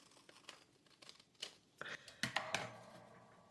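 A tool cuts through crinkly material, several close, brief crisp snips and tearing crackles bunched toward the end, with quieter rustling before them.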